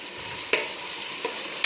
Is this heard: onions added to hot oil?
yes